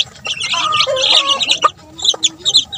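Chickens and 23-day-old chicks clucking and peeping together, a busy close chorus of chirps and clucks with a few sharper calls toward the end.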